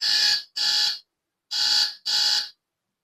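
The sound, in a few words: alarm ringing behind the camera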